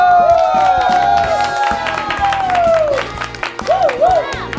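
Studio cast and crew clap and cheer for Hong-man after a day of kimchi-making on a Korean variety show, a loud burst of applause with whoops under bright tonal music and voices, ending in two short rising chimes.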